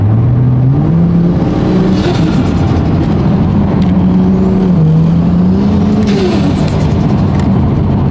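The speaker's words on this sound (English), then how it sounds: "how good does this car sound" A turbocharged Ford Falcon XR6 Turbo engine making about 430 hp revs up and settles, its tone rising and falling twice over a steady close-up drone, with a faint high whine on the climbs.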